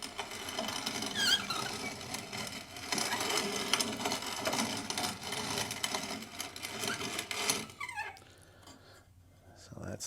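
Acorns are ground into flour in a hand-cranked grain mill, giving a steady crunching, grinding rasp with squeaky mechanical churning that runs for several seconds before easing off near the end.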